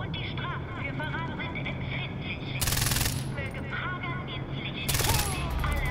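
Far Cry 4 video game gunfire, with two loud, dense bursts of automatic shots over a constant engine-like rumble, while someone talks quietly between and under them.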